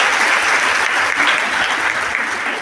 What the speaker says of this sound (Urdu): تو تالیاں بجا دیجیے گا پہلے